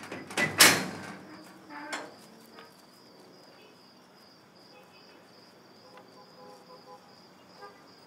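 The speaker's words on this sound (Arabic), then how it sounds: "افتح الباب يا ام سيد" A door is opened inside a women's prison in a TV drama, a sharp close clunk and rattle near the start followed by a fainter knock, then a quiet room with a persistent insect-like chirp in the background.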